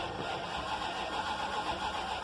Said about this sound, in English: So you're going to want to start it. Notice if it starts good or bad.